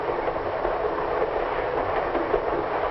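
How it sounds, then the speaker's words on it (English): A passenger train rolls steadily through farm country, a continuous broadband rumble of wheels and carriages with faint clickety-clack, loud and unbroken throughout, no voices. "Now the train's hurrying through farm country."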